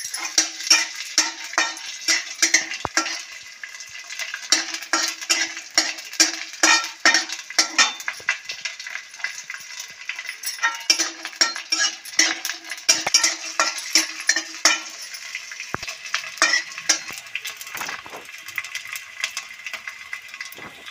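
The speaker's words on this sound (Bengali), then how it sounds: "এইগুলো কড়াইতে যেই ঘিয়ে দেবো না, ফুলে ফুলে একদম ফেপে উঠবে বড় বড় হয়ে।" Edible gum (gond) fries in hot ghee in a wok, a bright crackling sizzle broken by repeated scraping and stirring clinks of a metal spoon against the pan, with no talk.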